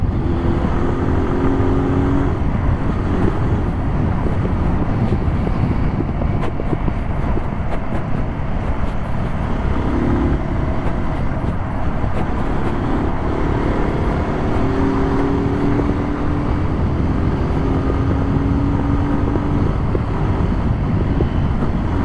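A 2020 Kawasaki Z125 Pro SE motorcycle rides through city streets, its small engine humming steadily under heavy wind rush and road noise with no break.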